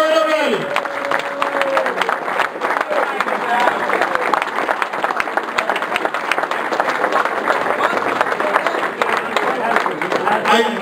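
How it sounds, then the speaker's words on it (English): Sustained applause from a crowd at a fire department retirement party honoring retirees, dense steady clapping filling the room for around ten seconds with a few voices mixed in. "how about a nice round of applause for all our honorees?"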